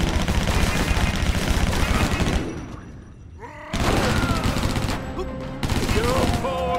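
Sustained gunfire barrages from the video game Stranglehold, loud dense bursts of rapid shots broken by a short lull near the middle, with a voice briefly heard in the game mix.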